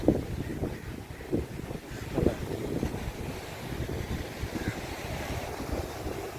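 Wind and breaking waves at Colva beach in Goa, where small boats operate, rumbling steadily with buffeting wind gusts on the microphone throughout; no speech.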